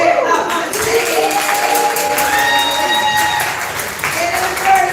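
Crowd applause and cheering at a Southern Fried Poetry Slam bout, a steady wash of clapping lasting the full stretch at close range, with an emcee's voice and whoops riding over it.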